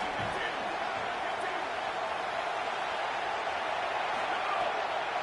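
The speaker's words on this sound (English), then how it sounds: "The Tide crowd rolling noise down onto Saban Field on 3rd down." Stadium crowd roaring at Saban Field in College Football 27 on third down, a dense, steady wash of distant noise holding level throughout.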